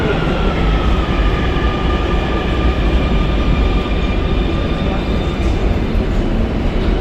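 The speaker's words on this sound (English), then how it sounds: "let's start off by riding a train on lower bunker level" A Barcelona metro train runs through a tunnel, giving a loud, continuous rumble and roar with faint high whining tones over it, steady for the whole stretch without clear talk.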